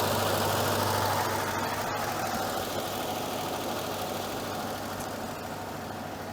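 Abandoned 1968 GMC truck engine idling after sitting 17 years, a steady loud rumble holding throughout with a fairly even, slightly rough running tone and no talk.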